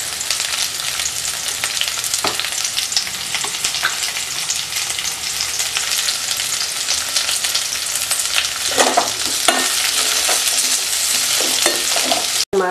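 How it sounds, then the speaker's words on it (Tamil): Onions sauté with salt in a pan for coconut milk biryani, giving a loud, dense, continuous sizzle. Stirring scrapes grow busier toward the end, and a sharp clatter comes right at the close. "இப்போ 2 உப்பு போட்டுக்கலாம், வெங்காயம் வதங்கிறதுக்காக."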